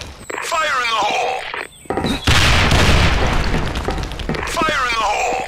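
A grenade blows up in a shooter video game with a loud, sustained blast lasting a few seconds. Shouted voices come just before and just after the explosion.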